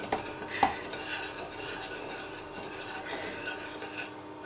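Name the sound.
scraping custard mixture into a pan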